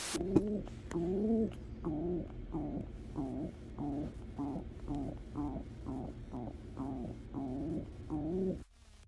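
A pigeon coos over and over in a steady rhythm of soft, throaty, rolling calls, close by and with no talking.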